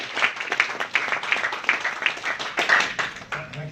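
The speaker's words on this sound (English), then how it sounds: "So a big round of applause for Peter." An audience applauds a speaker, a moderate, even patter of many hands clapping at middling distance, with a faint voice surfacing near the end.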